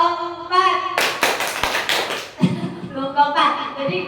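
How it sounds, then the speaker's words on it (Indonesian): A group claps hands together on counted cues, with bursts of sharp, slightly ragged claps in between a voice calling out the counts. "Tepuk 2, tepuk 4."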